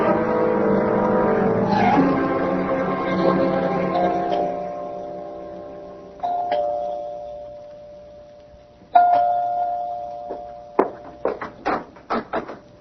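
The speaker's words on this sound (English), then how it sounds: "You can ring the doorbell." Doorbell chiming in a radio mystery drama, decaying bell-like tones ringing out, then a second chime, followed by a series of short sharp knocks or clicks near the end.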